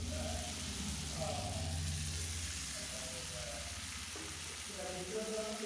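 An egg sizzles in hot oil with slit green chillies, a soft, steady frying hiss at moderate distance, partly covered by muffled voices and humming tones in the background.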